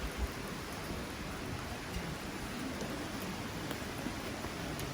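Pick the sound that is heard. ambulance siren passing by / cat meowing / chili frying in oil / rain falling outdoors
rain falling outdoors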